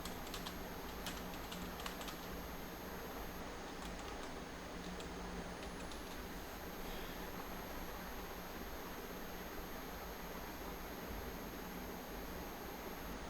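Keys tapped on a computer keyboard while an SQL query is entered, a steady run of faint, scattered clicks that cluster near the start over a constant background hiss, with no talking.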